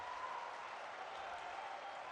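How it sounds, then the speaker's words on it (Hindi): Crowd at a public meeting addressed by PM Modi in Shajapur, Madhya Pradesh, applauding steadily as a dense wash of clapping that holds at an even level throughout, fairly distant with no pauses. "आदरणीय श्री मोदी जी का जोरदार तालियां बजाकर आप अभिनंदन करें"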